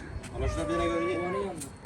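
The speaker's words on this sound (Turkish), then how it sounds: "Kral yavru kedi mi girdi buraya?" A kitten that wandered into a wolf enclosure meows once, a drawn-out, wavering cry close by and fairly loud over low background noise.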